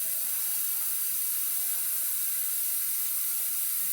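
Water runs steadily from a kitchen tap into a container, a continuous broad hiss and splash holding even for the whole stretch with no voices.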